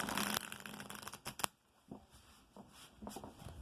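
Arcanum tarot cards riffle and shuffle up close in a few quick bursts, soft flicks and taps between short pauses, with no talking.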